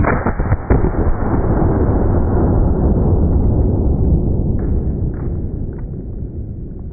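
A Shockwave 590 fires a 12 gauge mini shell outdoors, one loud sharp blast that then rolls on as a long, fading boom with no talking.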